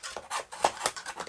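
A bone folder's back is rubbed and pressed along a paper fold while finishing a handmade Christmas box, giving a series of short, close, dry rasping strokes in quick irregular succession.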